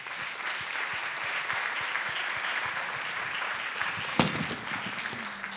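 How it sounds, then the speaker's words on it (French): Steady applause from an audience at a Ville de Gland economy prize ceremony fills the whole stretch, a dense wash of clapping with one sharp louder knock near the end. "On l'applaudit."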